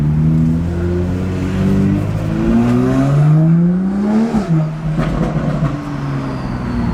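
Toyota Supra fitted with a new downpipe, driving in sports mode: a loud, close engine and exhaust drone rising steadily in pitch as it accelerates, then dropping back briefly around a shift before settling into a cruising tone.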